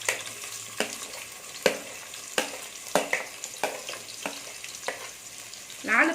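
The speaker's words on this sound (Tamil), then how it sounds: "இப்போ ரெண்டு பெரிய வெங்காயம் நீளம் நீளமாக கட் பண்ணி வச்சுருக்கேன் இதை இதில் சேர்த்துடலாம்" Long-sliced onions added to hot oil and ghee for prawn pulao, crackling and sizzling steadily with repeated sharp scrapes and stirring knocks of a spoon against the pan.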